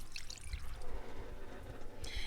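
Water is poured into the soil of a potted hibiscus plant, a soft trickling and splashing that continues through the clip with no talk.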